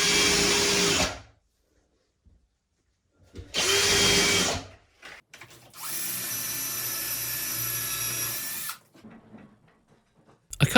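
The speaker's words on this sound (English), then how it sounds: "I brought it inside to keep drilling all these questionable dowel holes" A power drill whirs indoors drilling dowel holes for a built-in cabinet in three separate bursts, the last one longest, with quiet pauses between them.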